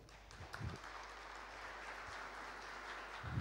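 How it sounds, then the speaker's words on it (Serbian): A conference audience at a telecom network operators' meeting claps in a soft, steady wash of applause, faint and distant throughout with a few sharper claps near the start and end. "Može slobodno aplauz."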